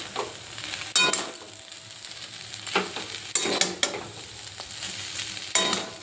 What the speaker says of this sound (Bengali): এবার চাউমিনের সাথে এই সবজি সব মিশিয়ে নেব।